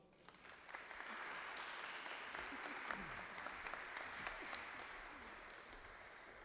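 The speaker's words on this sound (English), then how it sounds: "Help us in welcoming Coach John with a brief round of applause." A graduation crowd gives a coach a steady round of applause, dense overlapping clapping that stays even from start to finish, heard from a distance, with faint murmuring voices underneath.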